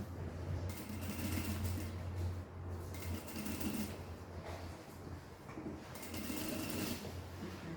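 A sewing machine stitches piping onto a bag in steady whirring bursts, running, pausing briefly, then running again up close.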